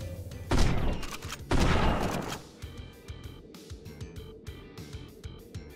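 Two loud, broad shotgun blasts from the Odinfall video game ring out close by, each with a long decaying tail, followed by quieter rhythmic thumps and clatter of in-game action.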